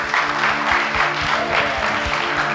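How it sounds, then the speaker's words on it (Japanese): An audience applauds for a speaker at a church service, with steady, dense clapping from a room full of people, loud and continuous throughout. "Give a big hand for ケイスケ"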